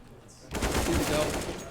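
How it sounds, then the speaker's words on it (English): Burst of rapid gunfire from a Counter-Strike match played at a live event, dense and loud for about a second with faint background noise, no talk. "Oh, takes down MJC. Now Nice that's headshot"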